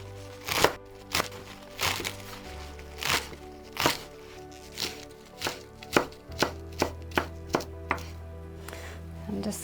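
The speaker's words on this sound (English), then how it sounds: "I just want to chop them just a wee bit finer" Dandelion stalks are chopped finely with a knife on a board, about a dozen crisp, close thunks in irregular clusters that quicken toward the end, over soft background music.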